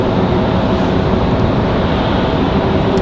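An Icelandair airliner's engines start up at the airport, a low steady roar heard from a distance as continuous broadband rumble with no talk over it.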